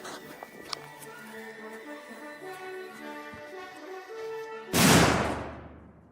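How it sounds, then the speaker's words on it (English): A firecracker detonates against a metal safe, one sudden loud blast late in the clip that decays over about a second, preceded by a quiet tonal background. "The explosion was super loud, but even though there was some damage to the safe, it was for sure not enough to open it."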